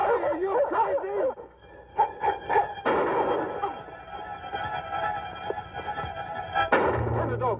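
Dogs barking in an old Western, several quick barks in a short burst, then a louder, noisier stretch of commotion that carries on to the end.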